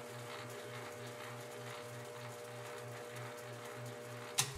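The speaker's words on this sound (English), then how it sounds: "I can only get about 150 RPM out of this before the lathe decides it wants to walk off the job." Metal lathe running slowly at about 150 RPM with an offset mass on a die filer build, giving a steady rhythmic mechanical thump and whir with a sharp knock near the end.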